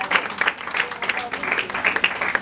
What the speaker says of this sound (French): Continuons d'applaudir. Madame Naomi, merci. Applaudissons comme il se doit.